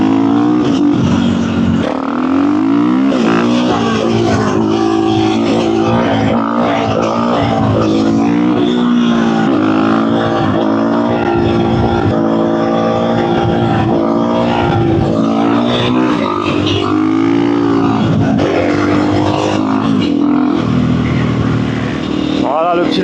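A motorcycle engine revs loudly up close while the rider holds a wheelie and works the clutch, pitch rising and falling through sustained throttle, with a voice talking over the engine.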